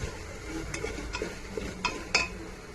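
Spiced rajma being stirred and sautéed in a pan with red chilli powder and masala, a few scattered utensil scrapes and clinks over a faint background sizzle.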